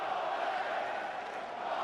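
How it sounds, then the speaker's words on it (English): A boxing crowd roars steadily for Tomasz Adamek during his 2005 fight against Paul Briggs, heard as a dense, sustained cheer with no breaks. "They're cheering for Adamek all the way."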